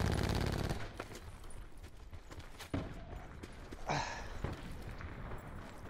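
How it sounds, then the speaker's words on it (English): Gunfire in the Call of Duty Black Ops 4 Outlander map, a loud burst at the start followed by scattered distant shots and impacts, with little talk. "This guy's shooting me from the hill."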